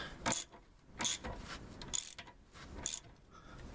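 A ratchet tightens a nut on the axle of a 2000 GMC Sierra 2500 during a CV axle job, giving four sharp, close bursts of metallic clicking at a steady pace of roughly one stroke per second, with no talking.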